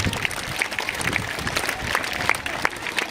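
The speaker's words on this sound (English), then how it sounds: "Now I need a huge round of applause for all the students." An audience at a school investiture ceremony applauds the students, dense, continuous clapping from a large crowd with sharp individual claps standing out, loud and close.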